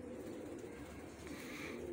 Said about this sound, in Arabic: ديك التور شوفوا شباب